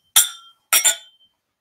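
Glasses clink together during a whisky toast, one bright ring followed by a double clink, crisp and close with short ringing decays and nothing else audible.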